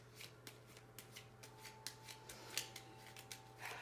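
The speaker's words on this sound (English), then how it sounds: "I'm actually going to pull some cards on this Knight of Pentacles as well." A tarot deck is shuffled close by, with a steady run of soft, crisp card riffles and slaps over a faint background hum.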